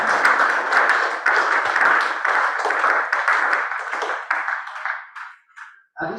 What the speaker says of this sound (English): I want us to clap for the presenters and all the people who questions and all the answers.